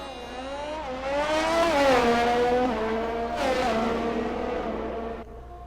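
Race cars in a racing video game roll down pit lane at Monza, their engines droning in steady harmonic tones that rise and fall together, loud and close throughout before easing off at the end.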